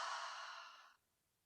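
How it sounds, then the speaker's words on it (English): A person takes a long, deep breath into the upper chest, one airy, close-up breath that trails off after about a second into quiet, with no talking. "So you're going to take some breaths and just breathe into the upper body."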